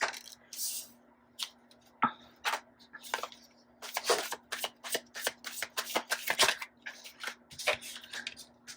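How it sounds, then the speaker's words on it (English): Tarot cards being shuffled in quick bursts of riffling and flicking, close and crisp, with short pauses between runs and a low steady hum underneath. "I would try to shuffle them on camera"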